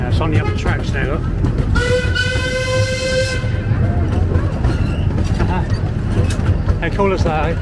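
A steam train rumbles steadily along the tracks at a steam museum with a brief horn blast partway through. A person talks over the steady noise.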